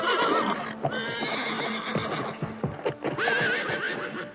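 A horse in a film neighs loudly and shrilly twice, with rising whinnies at the start and near the end, amid snorts and clip-clopping hooves, close and prominent.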